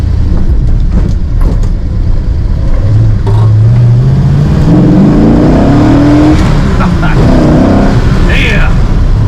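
426 Hemi car with dual quads accelerating hard, a loud rising engine roar climbing in pitch through a gear, heard from inside the car as a ride-along passenger.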